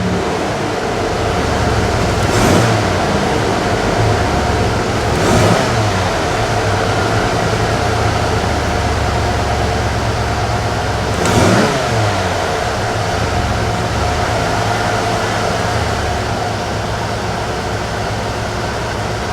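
A shop truck engine idles steadily and loudly nearby with a low rumble, marked by three brief revving surges spread across the run.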